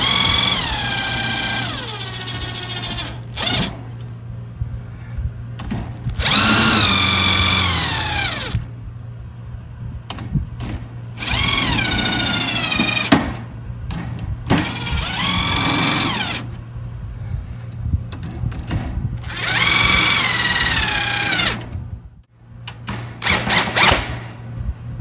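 Power drill driving screws back in while a drum's bottom head, an Evans Orchestral 300, is refitted; several loud, close bursts of rising and falling whine, separated by short quiet gaps, with no talk.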